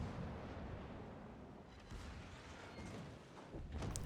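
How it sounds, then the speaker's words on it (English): Dense, rumbling naval gunfire from warships in the World of Warships game, a sustained low roar of broadside salvos with a few sharper booms toward the end, loud and continuous with no talk. "Muggy, broadside shots."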